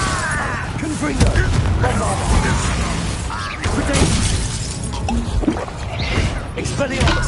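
In the Hogwarts Legacy video game, a Confringo blasting spell goes off amid a dense, loud wash of crackling, shattering battle effects and booms, continuous throughout.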